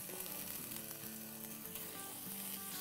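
Whole cumin seeds and ground ginger fry in hot oil, giving a dense, continuous close sizzle with faint crackle that holds steady throughout.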